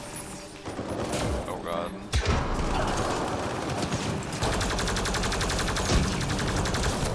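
Combat in Mass Effect Andromeda: rapid, dense gunfire rattling in sustained bursts with mechanical clatter, loud and close, with a brief exclamation spoken over it.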